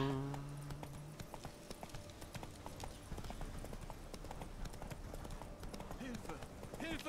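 Hooves of Geralt's horse galloping in The Witcher 3, a rapid steady clip-clop drumming throughout, with game music and effects layered over it and a brief voice shout near the start.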